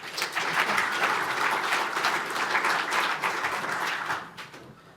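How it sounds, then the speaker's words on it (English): A conference audience at a network operators' meeting gives a steady round of applause, a dense patter of many hands clapping for about four seconds before it tapers off. "let's give him a big round of applause"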